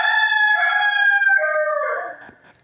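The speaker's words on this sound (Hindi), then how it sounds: "मुर्गे की आवाज़ आपको आ रही होगी" A rooster crows once, loud and close: a long, drawn-out cock-a-doodle-doo that holds steady and then trails off near the end, with no other sounds.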